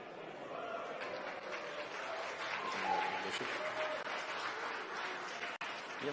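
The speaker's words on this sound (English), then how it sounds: "You might hear the applause in the background." A crowd applauds steadily at moderate distance in a rocket launch control room, a continuous wash of clapping with voices mixed in throughout.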